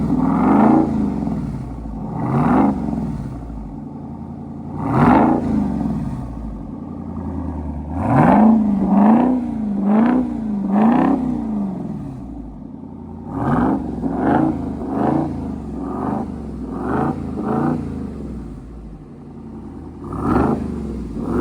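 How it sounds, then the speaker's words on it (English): A Dodge Durango Hellcat engine revs repeatedly through an AWE Touring catback exhaust, rising and falling in bursts with quick blips and a rumbling idle between. "She's gonna rev this thing up and let us hear it."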